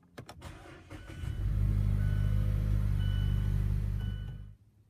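A manual-transmission car in neutral starts up: a few sharp clicks, then a brief crank catches into a loud, steady engine roar that holds for about three seconds before cutting off abruptly.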